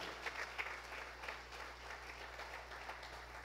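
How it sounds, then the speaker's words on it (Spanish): A church congregation applauds the Lord during a Spanish-language sermon, a steady, moderately distant wash of many hands clapping with occasional sharper claps, over a low hum. "Si te quedan fuerzas dale ese aplauso al Señor con vida."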